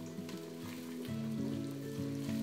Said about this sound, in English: When the onions are brown, add the ginger and garlic paste and stir well.